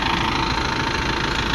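A Massey Ferguson 2635 4x4 tractor with a 70-horsepower engine runs close by, a steady, loud mechanical drone with no pauses through the short stretch.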